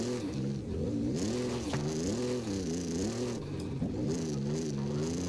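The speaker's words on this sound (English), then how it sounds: "It drops revs really, really quickly." The GMC Syclone's engine in Forza Horizon 5 revs up and down repeatedly, a loud, buzzy, up-close drone whose pitch keeps rising and dropping quickly.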